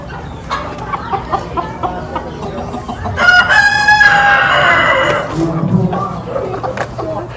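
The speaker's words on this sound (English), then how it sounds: "Mean rooster." A rooster crows loudly nearby, a drawn-out call in the middle, with softer clucks and background voices before and after.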